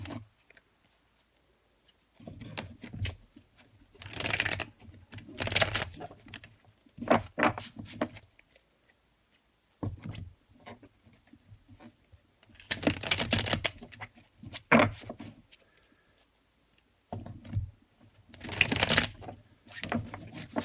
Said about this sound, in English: So much shuffling.